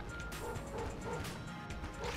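A dog companion in the video game Enter the Gungeon barks amid dense, busy game sound effects and crashing impacts, a few sharp yaps standing out over the clutter.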